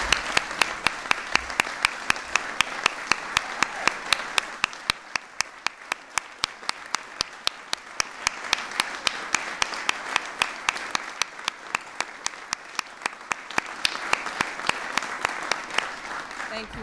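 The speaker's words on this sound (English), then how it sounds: "so we can give you all a round of applause." An audience applauds steadily for veterans and military spouses at a hiring announcement event, with sharp, dense clapping sustained throughout and swelling slightly near the end.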